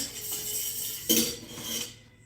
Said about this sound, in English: so we can pour our stuff onto the spoon to help it layer better